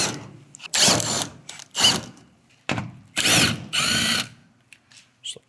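A power drill backs out cladding screws from a panel in several short whirring bursts with brief pauses between them, close and fairly loud, alone with no talk.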